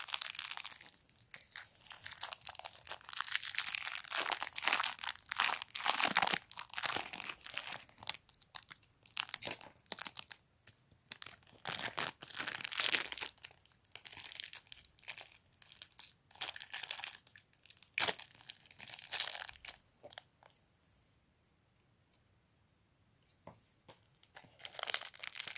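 Crinkly plastic wrapper on a snowman cookie crackles and crunches in close bursts as it is pulled and torn open, with brief pauses between, then quiets near the end.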